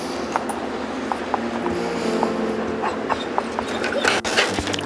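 A dog named Luca whines to come out and play, giving repeated short, high whimpers over a busy background, with some panting and faint movement nearby.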